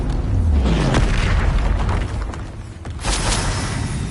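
The Confringo explosive spell goes off in a wizard video game with a loud, deep booming blast, followed by rumbling and a second burst of crackling impact noise a few seconds later.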